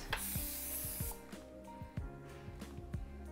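Cooking spray hisses in a long burst onto cake tins in a home kitchen, followed by irregular light knocks and scraping as the tins are handled.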